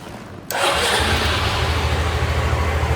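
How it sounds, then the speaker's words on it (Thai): A white-and-green 2008 Suzuki Skywave Type-S 400cc scooter starts with a quick crank, then settles into a steady, close, loud idle with a rhythmic low throb. "เดี๋ยวสตาร์ทฟังเสียงเครื่องยนต์ดีกว่า"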